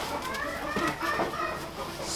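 Chickens cluck steadily inside a chicken run, a busy close chorus of overlapping clucks and calls with a puppy on a lead being brought in.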